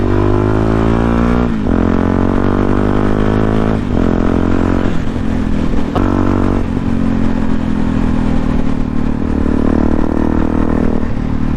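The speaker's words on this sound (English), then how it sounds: "just like I enjoy upsetting tiny villages with my shouty bike." Loud motorcycle engine riding through a small village, a steady throaty drone with repeated gear-change dips and revs, close and continuous throughout.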